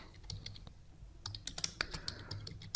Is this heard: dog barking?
no